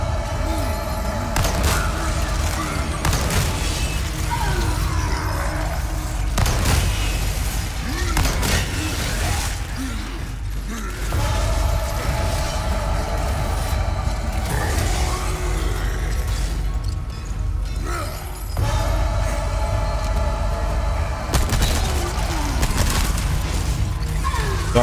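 Gunfire in the video game Resident Evil 4 Remake, with repeated shots against a resistant enemy, loud, mixed with dense game effects, crashes and mechanical clatter over a steady rumbling backdrop.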